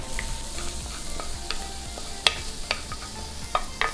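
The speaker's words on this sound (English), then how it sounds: "I've got my mushroom, onion, garlic mixture. I'm just going to add this to my stuffing." A mushroom, onion and garlic mixture is stirred into breadcrumb stuffing, giving soft wet scraping and mixing sounds with a few sharper clicks of the spoon against the bowl, with no talking.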